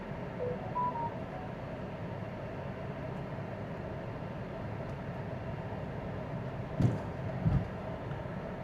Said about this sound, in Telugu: మెసేజ్ సౌండ్ కొంచెం డిస్టర్బెన్స్గా రికార్డ్ అయ్యి ఉండొచ్చండి.